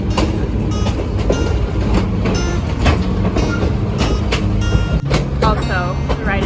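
White Pass Railway train in Alaska riding along, with steady loud rumble and rattling of the cars, metallic squeals and clacks, and people talking over the din.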